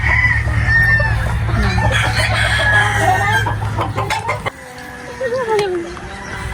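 Gamecocks cluck and a rooster crows repeatedly amid busy farmyard noise around a chicken coop, with people talking nearby and a steady low hum for most of the clip.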